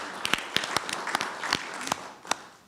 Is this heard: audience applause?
yes